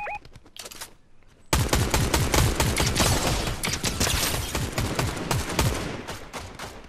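Rapid, sustained bursts of gunfire in Fortnite crackle loudly and almost continuously after a brief quieter opening with a few scattered shots.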